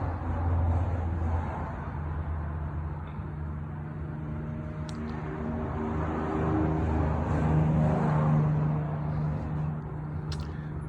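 Cars passing by on a road, a continuous low traffic rumble with broadband road noise that swells and eases over several seconds, heard from nearby.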